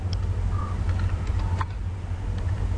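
Close computer-keyboard typing while writing code: a few light, uneven key clicks over a steady low hum, with no speech.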